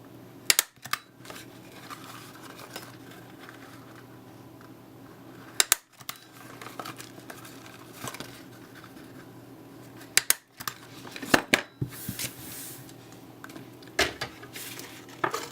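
A hole punch bites through a cardboard candy box in several sharp, isolated clicks and crunches spaced seconds apart, with quiet handling noise between them.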